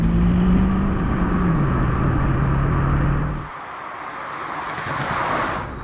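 A car engine held at high revs while overtaking a truck on an open road roars loudly and steadily under heavy wind and road noise, then drops off sharply partway through as the car eases back.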